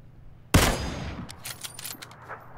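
Gunfire in the battle royale game PUBG, with a Kar98 rifle in use: one loud, close shot bursts out and rings off, followed by a series of fainter, sharp shots at irregular intervals.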